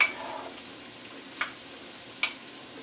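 Spring onions and cooking onion fry in a cast iron pan with a soft, quiet sizzle, broken by a couple of brief clinks or stirs.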